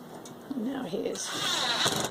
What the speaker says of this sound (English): screwing it into the studs.